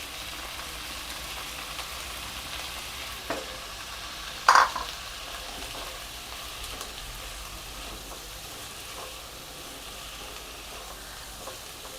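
Chopped onion and tomato fry together in a pan for palak paneer bhurji, with a soft, steady sizzle throughout and one brief clatter of a spoon stirring partway through.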